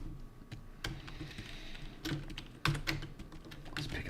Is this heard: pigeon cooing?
no